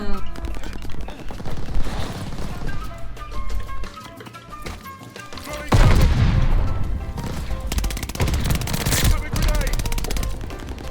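Bursts of rapid automatic gunfire crackle through game music and effects in Call of Duty: Vanguard, with a loud volley kicking in midway and continuing steadily.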